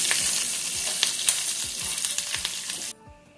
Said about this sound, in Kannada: ಹಾಕೊಂಡು ಫ್ರೈ ಮಾಡ್ಕೋಬೇಕು ಚೆನ್ನಾಗಿ.